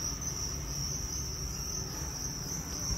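Crickets on a Vietnamese cricket farm chirp in a continuous, even high trill, steady and moderately faint, with no voices.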